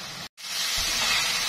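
Taro and seafood deep-frying in hot oil over a strong flame, a steady loud sizzling hiss with a brief cut, then rising and continuous.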